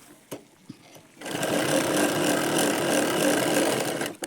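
A sewing machine stitching piping onto a lined blouse starts after a few faint clicks and runs in one steady, close, continuous whir until it stops abruptly.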